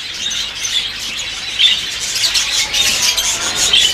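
Many small birds chirp and tweet continuously in an aviary, a busy, overlapping chatter of high calls with occasional sharper squawks and faint wing flutters, no talking.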